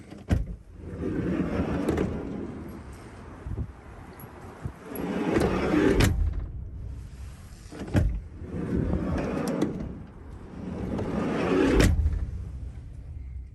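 Sliding side door of a RAM Promaster van rolls open and shut repeatedly, each long smooth roll ending in a sharp latch thud, about four cycles with no squeak.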